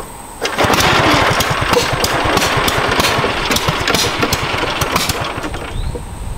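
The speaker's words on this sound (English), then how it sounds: "I haven't tried to go very fast on this mower yet, but we're doing a speed run" A ride-on lawn mower engine runs hard on a speed run, a steady loud rattling drone with rapid chugging pulses and occasional louder bursts.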